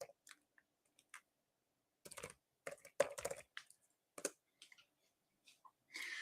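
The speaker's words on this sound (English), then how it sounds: "Here, I'm going to type my email" Typing on a computer keyboard, close, quiet irregular bursts of key clicks separated by silent pauses, with no talking.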